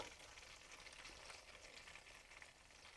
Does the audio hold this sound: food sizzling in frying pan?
yes